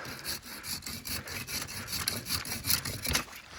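A Silky Bigboy Outback Edition pruning saw cuts through wood in quick back-and-forth rasping strokes, close and fairly quiet, with no talking.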